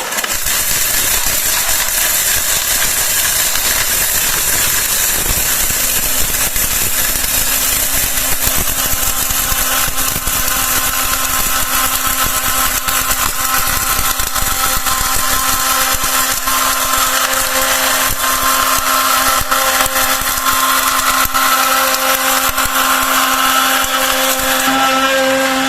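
An Atomberg BLDC mixer grinder grinds hard turmeric, a steady loud whirring roar that runs unbroken for over twenty-five seconds with a constant motor hum underneath and no speech.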